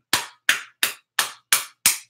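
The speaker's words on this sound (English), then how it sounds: "Clap." Six sharp hand claps in an even, steady rhythm, each crisp and close with a quick decay and silence between them.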